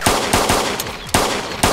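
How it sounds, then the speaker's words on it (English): Gunfire in the survival game DayZ: four sharp, loud shots spaced roughly half a second apart, each with a short rattling tail, and no voices over them. "I'm shooting at him."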